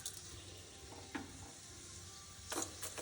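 Cumin and urad dal frying in about two spoons of hot oil for a village-style tempering, a soft continuous sizzle with brief crackling bursts and a louder spurt near the end, close by with no talk.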